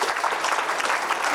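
Steady applause from a conference audience at a summit, a dense patter of clapping sustained throughout.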